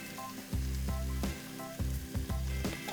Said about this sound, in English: add that lovely sauce that we made right into here